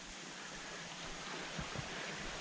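A creek runs beside a campsite in the Virginia woods near the Massanutten Trail, giving a steady, soft broadband rush of flowing water with no voices, holding even throughout.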